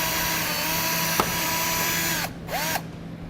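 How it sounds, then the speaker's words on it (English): A 1/4 inch drill bores out a rivet while a base plate is fitted to a 2017 Jeep Cherokee. A loud, steady whine runs close by, then stutters and briefly drops out near the end, with no talking. "I'm going to be drilling right in the center of that rivet"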